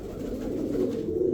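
Small pigeon cooing close by, a soft low continuous coo lasting just over a second.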